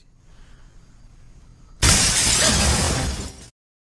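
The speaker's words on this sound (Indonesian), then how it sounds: "terdengar suara kaca berderai di lantai bawah" Window glass shatters on a floor downstairs in one sudden loud crash that stays as a harsh, bright spray of breaking shards for nearly two seconds, then cuts off into silence.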